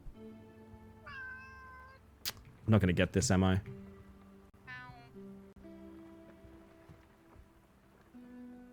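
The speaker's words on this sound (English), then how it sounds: "With your one meow stock sound." A single stock meow from a cat in a video game rings out twice, short and clear, amid soft game music and a loud burst of other game noise, while a person talks over it.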